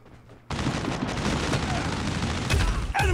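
Rapid gunfire in the mobile shooter game Call of Duty Mobile, a dense burst of automatic shots that runs loud and continuous for about two and a half seconds, with a few heavier cracks toward the end.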